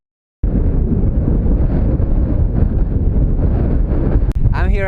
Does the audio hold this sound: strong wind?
yes